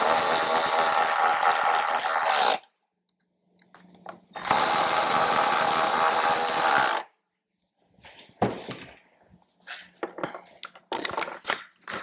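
A power tool whirs in two long, loud bursts while bolts are tightened during a car amplifier install. Scattered clicks and handling noises follow.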